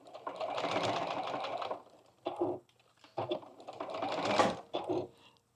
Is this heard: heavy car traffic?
no